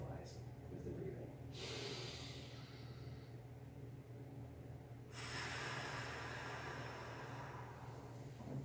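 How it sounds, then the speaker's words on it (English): A group breathes deeply together during a public speaking exercise: two long, soft breathy rushes of air, the second drawn out over several seconds, quiet against a low steady background hum. "Let's breathe again."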